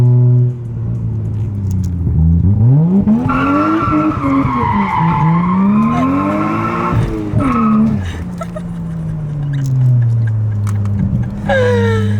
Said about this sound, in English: So he's drifting this corner.